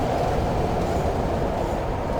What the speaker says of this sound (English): I love these tram rides, especially this one, because right there you get airtime.